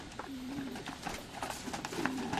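Soft pigeon coos repeat through a low murmur of birds, with scattered wing flutters and rustles nearby.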